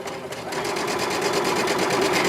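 A sewing machine runs steadily, stitching a quarter-inch seam on small quilt squares, its needle tapping in a rapid, even rhythm close by with no talking.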